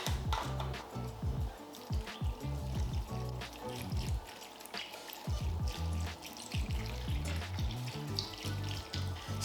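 Chicken stock pours into a pot of homemade chili in a steady, gurgling stream with irregular glugs and splashes that continue throughout, close by and moderately loud.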